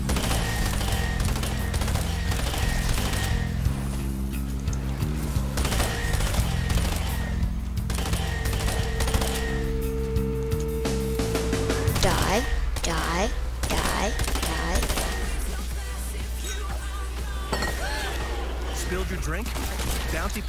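Rapid gunfire from a first-person shooter video game zombie map, with bursts of shooting running throughout and dense game music and voices layered over it.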